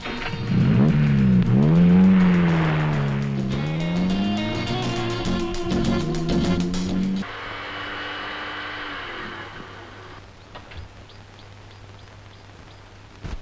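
A car engine revs loudly nearby with rising and falling pitch, then the car pulls away and the sound fades to a faint background hum.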